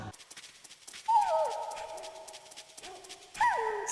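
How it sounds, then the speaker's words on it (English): Wolf dogs, half wolf and half husky, in the Metal Gear Solid video game give a couple of high, sliding whimpering whines separated by a pause, fairly close and alone. "Wolf dogs. Half wolf, half husky."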